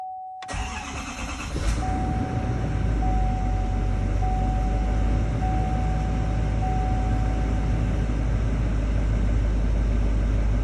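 A 2022 GMC 6.6 diesel cranks and catches on a cold start at 46 degrees, then settles into a steady, loud, even idle with a faint high whine.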